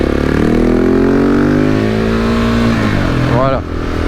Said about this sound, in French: on va dépasser la bagnole là